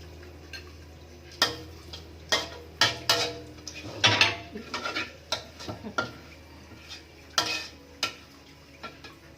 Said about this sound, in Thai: ขอเจียวกระเทียมกันเนาะ